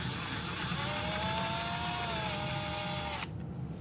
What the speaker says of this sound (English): I'm just going to pull that screw out.